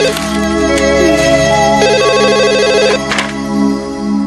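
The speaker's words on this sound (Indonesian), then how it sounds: "Itu mungkin telepon" A telephone ringtone plays a loud, continuous electronic melody that rings on for several seconds with no voices over it.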